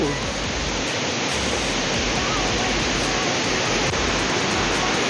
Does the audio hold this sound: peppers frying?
no